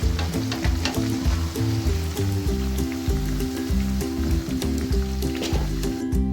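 Potato lachha pakoras fry in hot oil with a loud, constant sizzle and bubbling crackle, set against a looping rhythmic backing track.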